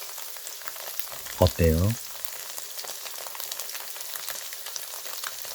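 Tofu frying in an oiled pan, with a steady crackling sizzle throughout and a brief spoken question partway through.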